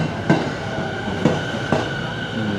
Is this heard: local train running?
yes